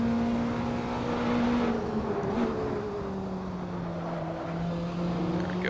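A Praga R1 race car engine under throttle in Assetto Corsa, a continuous droning engine note whose pitch drifts down then steadies, loud and unbroken with no talk.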